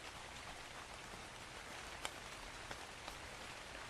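Rain falls steadily in the video game Ark: Genesis, a dense even hiss of drops with a few faint ticks, low in level and continuous throughout.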